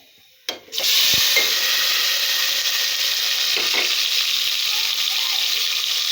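Chopped onion, one tomato and two chillies tip into a hot pan and start frying, a close, steady loud sizzle that follows a brief clatter and runs unbroken to the end.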